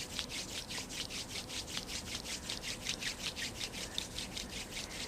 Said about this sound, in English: and then we'll rub our hands together again